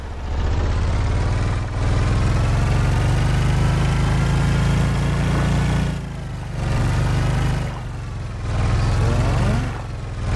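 Boat motor in Stranded Deep, a steady low droning engine running continuously and fairly loud, with brief dips in level, and a single short spoken word over it.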